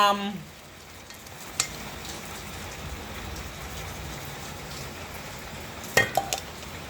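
Fish innards boiling in a pot as the base for a Thai fish-innards curry, a steady soft bubbling hiss lasting the whole stretch, with a few brief clatters near the start and end.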